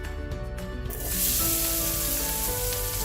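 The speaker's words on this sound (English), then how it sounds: "So I'm going to start preparing the pork by heating a pan with a couple tablespoons of oil. And I finely diced my white onion, which I'm going to add." Finely diced white onion hits a pan of hot oil with a couple tablespoons of oil, and a soft hiss swells into a loud, bright, sustained sizzle.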